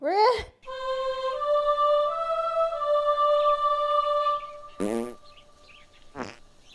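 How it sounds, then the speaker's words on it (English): A novelty sound clip of a nun-chicken fart plays back: a squeaky rising blast, then a long buzzy tonal drone, followed by two more short squeaky bursts, fairly loud and alone. "that nun chicken fart clip was worth the price of admission"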